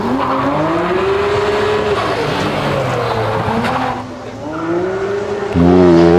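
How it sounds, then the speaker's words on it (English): Race car at a hillclimb event sliding under handbrake, loud engine roaring and shifting pitch throughout, with tyre skid noise as the car swings through the corner and a surge of engine power at the end. "There's a little bit of handbrake action there to initiate the slide."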